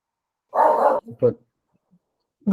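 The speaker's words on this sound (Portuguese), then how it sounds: "Perdão pelo barulho, minha cachorrinha está latindo." A small dog gives a couple of short, high yappy barks close by, then quiet, with another bark starting at the end.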